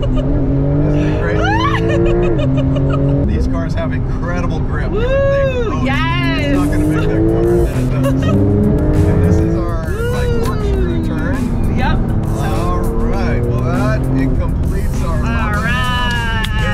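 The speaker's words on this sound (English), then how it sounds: "So this is the most powerful car in our stable. That it's called the 911 Turbo S." A Porsche 911 Turbo S accelerates hard from a launch, its engine note loud and close, rising and falling through repeated gear shifts for a sustained run, with people's excited voices over it.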